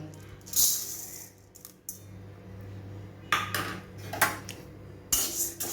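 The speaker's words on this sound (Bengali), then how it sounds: "ডালটা আমি এর মধ্যে দিয়ে দেব" Whole urad dal goes into a pan on the gas, giving scattered rattling clinks and metal utensil knocks in short bursts against a low steady hum, fairly close and moderately quiet.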